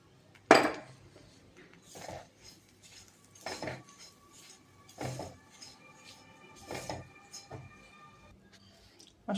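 Semolina frying in a spoonful of ghee for suji halwa, stirred with a spoon that scrapes and clinks against the pan in quiet, irregular bursts with soft pauses between.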